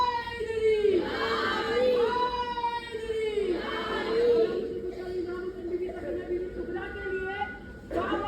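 Large crowd at a Shia religious gathering chanting the slogan "Haidari" in loud, drawn-out unison calls, repeated several times in waves with a lead voice between them.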